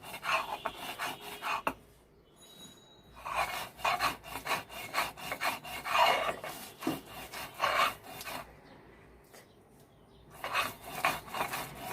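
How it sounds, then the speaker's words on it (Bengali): Mustard paste, boiled green chilies and salt are crushed together on a stone slab, a rough rasping scrape repeating in long rhythmic strokes with short pauses between bursts, close and fairly quiet. "সরিষা বাটা, কাঁচামরিচ সেদ্ধটা, আর হচ্ছে লবণ, এই তিনটা আমরা এখন বেটে নিচ্ছি একসাথে।"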